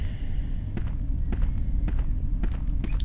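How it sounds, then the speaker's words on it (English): Several sharp gunshots in the video game Crow Country pop at irregular intervals over a steady low rumble, fairly loud and close. "You may have heard some gunshots"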